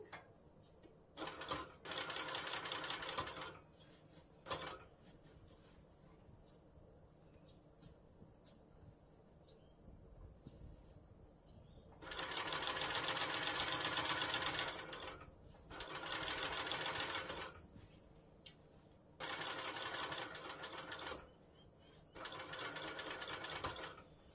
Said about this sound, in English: now I'm going to start sewing on my binding